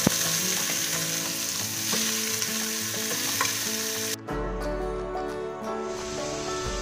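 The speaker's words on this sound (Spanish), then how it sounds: "mientras se dora nuestra verdura" Vegetables sizzle steadily in a hot pan while a wooden spoon stirs them, the frying loud and continuous, then the sound shifts to a lower, duller hiss near the end.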